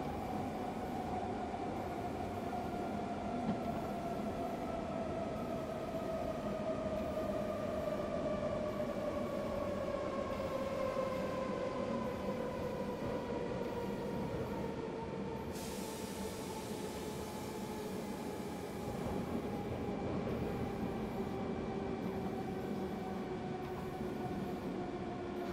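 An S-Bahn commuter train on the S3 line toward München Hauptbahnhof in Train Simulator 2018 runs steadily, with a droning motor whine that slowly falls in pitch and a continuous rolling rumble and hiss, loud and close throughout, with no talk.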